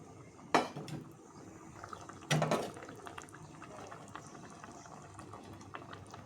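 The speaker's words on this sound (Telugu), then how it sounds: "ఇప్పుడు మనం వచ్చేసి కొన్ని వాటర్ వేసుకుందాము." Water splashes into a pan of egg curry with tomato masala in two short, loud bursts, followed by a soft bubbling simmer and faint clinks.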